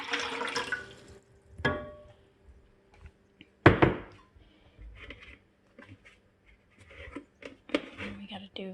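Water poured from a measuring cup into 32-ounce Ball jars for refrigerator dill pickle brine, giving short splashy pours between quieter moments, close and fairly loud, with a voice talking over parts of it.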